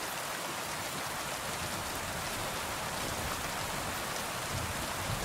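Steady, dense rainfall in the medieval open-world game Kingdom Come: Deliverance II, a continuous hiss of drops on surfaces holding an even level throughout with no voices.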